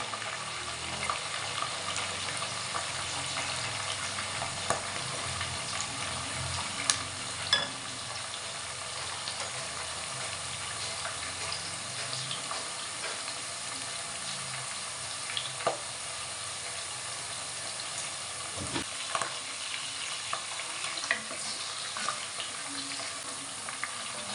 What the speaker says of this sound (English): let it fry for a bit.